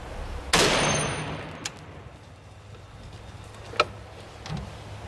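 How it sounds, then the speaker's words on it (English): A single booming shot from a .50 caliber rifle fired at a printed titanium target rings out loud and close, its sharp crack trailing into a long fading rumble, followed by a few faint, sharp impacts. "Let's see what happens with a 50 cal rifle."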